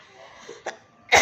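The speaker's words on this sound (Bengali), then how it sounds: "কাশি শুরু হলে আর থাকছে না, এত কষ্ট হচ্ছে।" A single short, sharp cough from a person who is unwell, close to the microphone in a quiet room, coming after a couple of faint breathy throat sounds.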